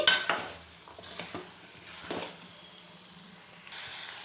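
Green pigeon peas and vegetables being stirred in hot oil in a pan: a few scraping, clinking spoon strokes over a soft, steady sizzle, close by with no talking.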